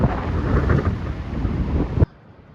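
Heavy rain pours steadily in a dense broadband roar with some wind buffeting during a Harley-Davidson motorcycle ride over Sonora Pass, California, then cuts off abruptly near the end, leaving a faint quiet background.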